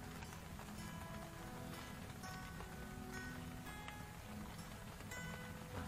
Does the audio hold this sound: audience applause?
no